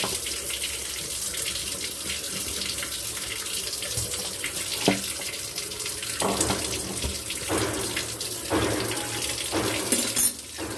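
Water runs and splashes steadily as boiled banana flower is drained at a kitchen sink, a continuous faint rush with a few louder clatters and splashes toward the end.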